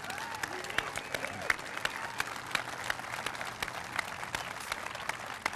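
Audience applause at an outdoor Memorial Day ceremony, many hands clapping in a steady, fairly distant wash with sharper individual claps popping out, sustained evenly throughout.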